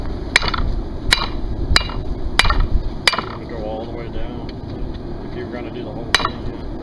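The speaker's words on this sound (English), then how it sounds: "hammering it like that is going to make it a little wider." A smith hammers hot horseshoe steel on an anvil, five quick ringing blows in a row, a short pause, then two more, close and clear.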